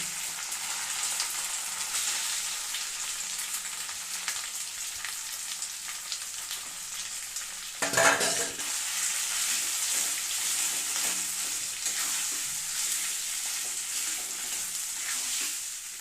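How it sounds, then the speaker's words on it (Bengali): Ginger, garlic and potatoes fry in a pan with a constant, close crackling sizzle, which swells into a brief louder burst midway as more food is tipped in, then settles back into a steady hiss. "আদা রসুনটা ভালো করে ভেজে নিয়েছি এবারে এর উপরে দিয়ে দেবো ব্যাস করে রাখা আলু"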